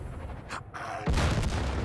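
A helicopter crash-lands and explodes in the video game Far Cry 5: a muted, hollow stretch gives way to a sudden, loud, sustained roar of blast and burning that stays heavy to the end.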